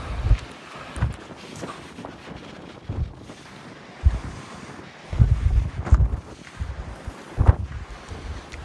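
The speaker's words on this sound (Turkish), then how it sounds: "Burası Çanakkale'ye göre daha çok rüzgar alıyor" Gusty wind at Kilitbahir fortress on the Dardanelles buffets the microphone in irregular low rumbling bursts, rising and falling over several seconds with no one talking.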